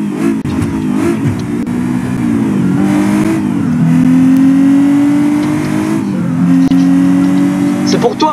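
A loud rally car engine in the video game BeamNG.drive revs and accelerates, its pitch rising and shifting through gears, with a voice talking over it.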